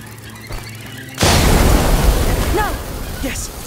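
A thrown pot bursts into a short fire in A Plague Tale: Requiem, a sudden loud whoosh and roar that starts abruptly and stays dense and noisy for a couple of seconds, with faint squeals over the top.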